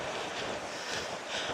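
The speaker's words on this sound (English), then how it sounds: "it's very windy today." Strong wind buffets the microphone on a coastal walk by the shore in Costa Teguise, a continuous broad roar with gusts swelling and easing, no voices.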